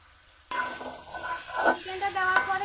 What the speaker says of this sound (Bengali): এখন ভেজে রাখা চিকেনগুলো দিয়ে আরো কিছুক্ষণ কষিয়ে নিব।